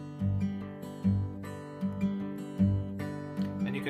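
Steel-string acoustic guitar fingerpicked in an alternating pattern, steady thumb bass notes under brighter plucked treble strings, close and clear, played solo without voices.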